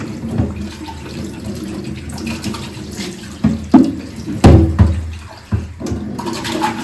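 Running water splashes steadily as an RO spun filter is washed by hand, with louder gushes and sloshing bursts midway as the filter is rinsed.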